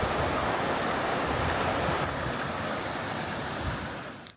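A river runs over rock pools and cascades along a hiking trail in Korea, giving a loud, continuous broadband rush of water close by that softens slightly toward the end, with no voices.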